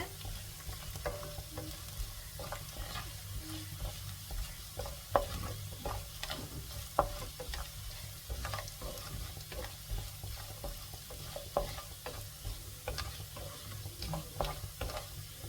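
Ginger sizzles softly in hot oil in a pan for tomato thokku, with intermittent stirring clicks and scrapes over a low steady background hum.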